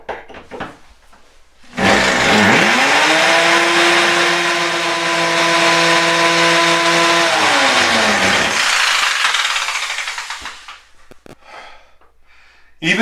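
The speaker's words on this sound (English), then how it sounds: "got the hammer drill, my old Milwaukee hammer drill, and let's see how that works" A Milwaukee hammer drill drilling into hard tile whirs up to a loud, steady grinding whine, holds for about six seconds, then winds down, leaving quiet room noise.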